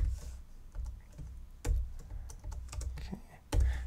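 Typing JavaScript code on a computer keyboard, with close, uneven clicks and a few heavier thumps from the spacebar or enter key. The keystrokes come in short bursts over a low room hum.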